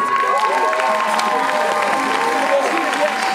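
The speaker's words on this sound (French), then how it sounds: "S'il vous plaît, applaudissez quand même ce doigt pour c'est l'amour." Audience applause at a slam poetry festival: a dense, steady wash of clapping from a crowd, loud and continuous throughout, with cheering voices mixed in.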